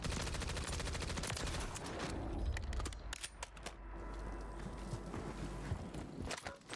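Rapid bursts of SMG fire crackle in the Call of Duty: Warzone battle royale game, a fast continuous volley for about two seconds followed by scattered single shots and clattering footsteps.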